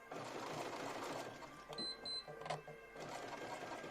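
A sewing machine stitches lace motifs together, its motor whirring in short bursts with brief pauses as the fabric is worked back and forth, fairly quiet and close, with a soft beep partway through.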